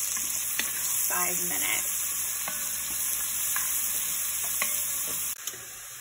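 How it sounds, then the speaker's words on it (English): Onions cooking down in a pan for a gnocchi beef stew sizzle steadily, with a few stirring scrapes and knocks partway through; a brief spoken phrase passes over the frying. "We're gonna cook these onions down until they're translucent."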